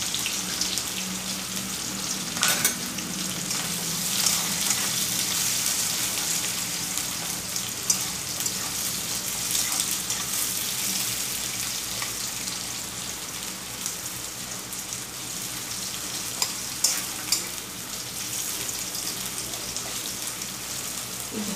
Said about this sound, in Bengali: দিয়ে দিলাম স্লাইস করা পেঁয়াজ